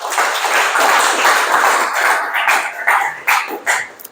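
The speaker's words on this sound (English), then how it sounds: "Give her a round of applause." A comedy club audience claps, a dense burst of applause at full volume that thins into scattered claps toward the end.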